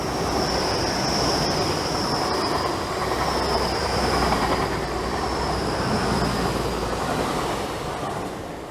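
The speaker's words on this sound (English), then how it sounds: "Anyway, there's a train, smashing." A train rumbling steadily past nearby at Dawlish, with a continuous high metallic wheel squeal riding over the roar.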